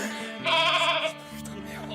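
A person imitates a goat with a loud, wavering vocal bleat, tremulous and sustained for about a second, set among other voiced sounds in an indoor setting.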